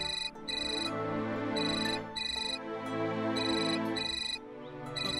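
A mobile phone ringtone plays a repeating electronic melody of bright tones in steady phrases, clear and unbroken with no one talking over it.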